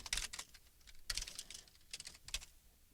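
A computer keyboard is typed on in short clustered bursts of crisp, close key clicks with brief pauses between them.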